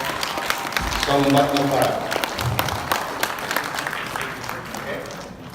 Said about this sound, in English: please give a big round of applause to Professor